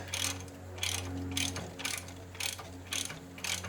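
A ratchet clicks away at an E12 Torx bolt on the rear shock of a BMW E87, with about six quick bursts of ticking in a steady rhythm. The ratchet is close and clear, with a low hum under it.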